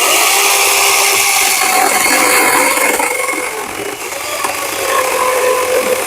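A Wild Badger 20V cordless chainsaw cutting through a piece of maple hardwood, a loud continuous motor whine with chain rasp that stays close and steady throughout.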